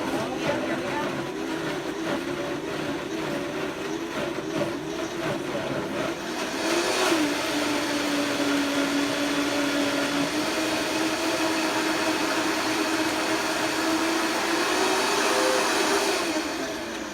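A blender runs while making gluten-free, dairy-free mac and cheese sauce, a steady loud whirring motor that shifts pitch partway through and keeps going, with people talking over it.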